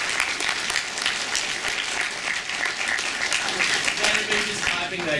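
Clapping from an audience at the Portland Retro Gaming Expo, lively and sustained, with voices talking and calling out over the applause.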